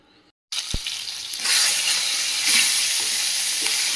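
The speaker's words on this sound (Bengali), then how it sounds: "মাছটা বেশি ভাজবো না, হালকা করে ভেজে নেব।" Climbing perch (koi fish) dropped into hot mustard oil and frying, a sudden loud, steady sizzle that swells and crackles continuously after a brief quiet start.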